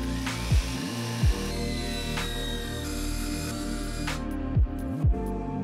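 A power tool cuts plywood floor panels for a camper van conversion, a loud continuous whine with a few brief pitch dips as the blade bogs and recovers, close up and without speech.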